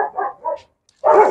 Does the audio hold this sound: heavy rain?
no